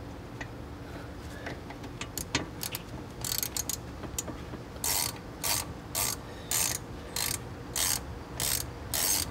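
Ratchet wrench tightening bolts on Jeep XJ Cherokee brake parts during a booster, disc and caliper upgrade: a scattered run of quick ratcheting bursts that settles into a steady series of regular clicking pulses, close up with no talk.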